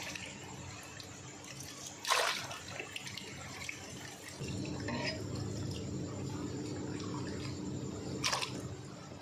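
Sliced potato chips drop into a container of water, with splashing bursts at about two and eight seconds over a steady low watery rumble in a home kitchen.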